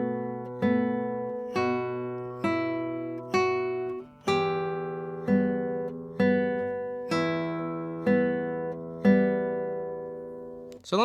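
Classical guitar playing a passage of the piece "Vals": a slow run of about nine plucked notes and chords, each ringing out and fading before the next, played solo and up close with no talking.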